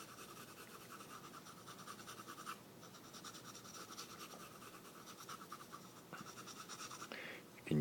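A drawing medium, compared with charcoal, scratches back and forth across paper in quick, close, soft strokes, a dry rhythmic rasp that keeps going with brief breaks and no talking.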